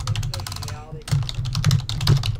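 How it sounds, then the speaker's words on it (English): Rapid typing on a computer keyboard clatters in quick, dense keystrokes, picked up fairly loud by a podcast microphone, with voices talking over it. "Was my typing really that loud? We can hear it quite audibly, yes."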